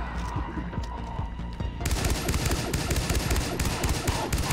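Pistol fire in the video game Far Cry 3: Blood Dragon: a dense run of rapid, loud shots that starts partway through and continues steadily to the end over busy game noise.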